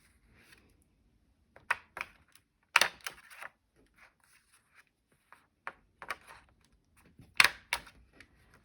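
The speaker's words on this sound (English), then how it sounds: "I'm just going to use a tiny attacher and hope it has staples," A tiny Attacher mini stapler fires staples through vellum, giving a few sharp, close clicks and snaps separated by near silence in a quiet craft room.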